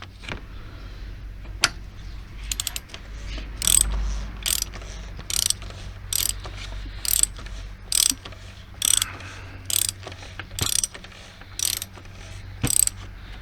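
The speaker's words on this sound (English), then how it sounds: "I'm only going to tighten with one hand and just using a power wrench" A hand ratchet clicks in regular bursts of short strokes while tightening the oil filter housing on a BMW 330i E46 to a light torque, close and crisp against a quiet workshop background.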